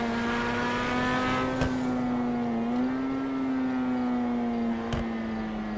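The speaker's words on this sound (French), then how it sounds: "Faire chanter ce V12 qui pète à chaque passage de rapport, c'est vraiment incroyable." Grotti Italia GTO V12 in a video game, a steady loud engine drone holding pitch with a slight rise and fall, broken by a few sharp pops on gear changes.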